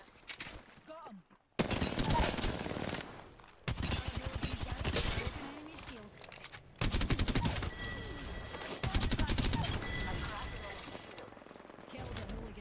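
Bursts of automatic gunfire in an Apex Legends match, rapid rattling volleys arriving in several loud separated clusters with brief gaps, mixed with game effects and a voice speaking in between.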